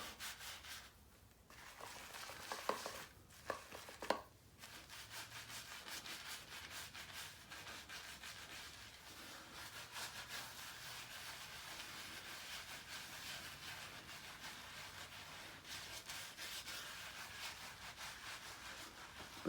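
An old shaving brush works up lather for a head shave, giving a close, continuous wet scratchy rubbing that keeps up steadily throughout.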